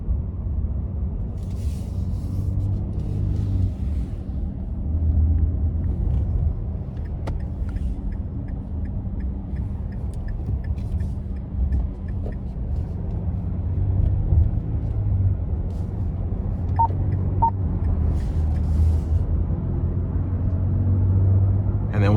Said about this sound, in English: now we're gonna give it some throttle getting on the interstate here